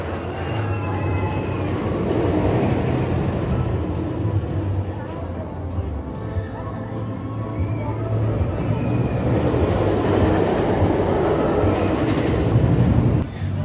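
Wildcat's Revenge steel roller coaster at Hersheypark rumbles along its track with a low, steady roar that swells toward the end, heard at a distance over general park ambience.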